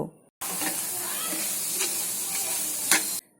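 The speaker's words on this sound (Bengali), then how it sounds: "এখন আমি নেড়ে নিব" Grated carrots with sugar stirred in a hot pan for carrot halwa, a short burst of close sizzling and hissing with a few scraping stirs, beginning and ending abruptly.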